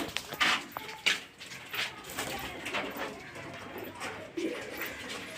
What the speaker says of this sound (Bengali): প্রথমেই আপনাদেরকে দেখিয়ে নিই দুটো কালদুমা পায়রা